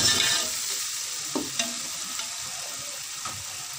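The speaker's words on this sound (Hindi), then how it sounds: "ये मसाला हमारा भुन गया है अच्छी तरह से" Masala frying in a pan for an aloo and green chana pulao, a soft, even sizzle with a few light clinks of stirring, fairly quiet and alone.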